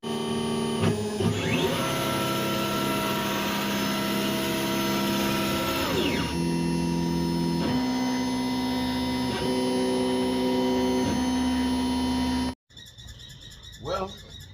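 An Inventables X-Carve CNC machine carves a butcher block, its router and stepper motors giving a loud, steady whine with pitch shifts as the moves change, running nearly the whole time before cutting off abruptly near the end.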